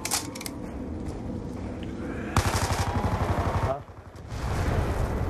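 An EMP grenade detonating in a Zombies video game, heard as a sudden burst of rapid crackling pulses that cut in midway and then dip to a muffled lull. Players talk over the noise.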